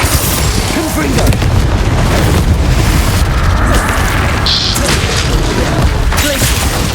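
Confringo blasting spell explosions in the Hogwarts Legacy video game: dense booming blasts and crackling bursts in a busy wall of game combat noise, with brief voice calls over it.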